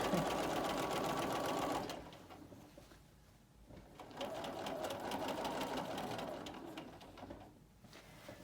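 A sewing machine stitches a walnut quilt block in two bursts of steady, close whirring, separated by a short quieter pause.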